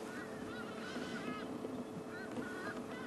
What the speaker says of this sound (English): Hyenas calling off in the distance towards the den.